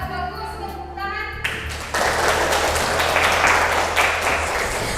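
Applause closes a university teacher-training class presentation; clapping starts faint under a hum, then swells into a louder, busy patter of hands that continues steadily.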